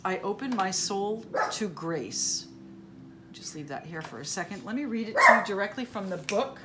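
A dog barks in a few short bursts in the background of a room while a person keeps talking steadily over it.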